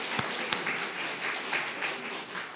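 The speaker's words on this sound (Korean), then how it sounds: "박수를 하나님께 드리겠습니다." Church congregation applauding during a Korean Sunday worship service, a loose patter of claps with a few sharp individual hits standing out, moderately close and fairly quiet, with no voices over it.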